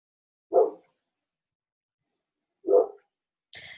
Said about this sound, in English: Man, tell your dog to shut up.